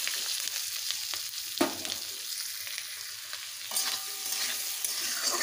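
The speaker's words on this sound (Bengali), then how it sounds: "এবারে দিয়ে দেব কোচানো পেঁয়াজ রসুন।" Chopped onion and garlic fry in a pan over tempered spices for a jackfruit curry, giving a steady close sizzle with a few scraping stirs, and no talking.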